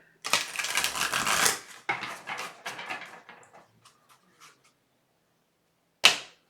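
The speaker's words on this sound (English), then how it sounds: "One more shuffle on that." A tarot deck is shuffled in close, crisp riffles: a long rapid burst, then shorter clattering bursts tapering into scattered taps, a pause, and one final sharp snap of cards.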